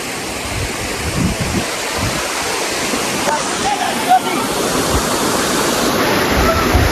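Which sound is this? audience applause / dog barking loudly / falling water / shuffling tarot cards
falling water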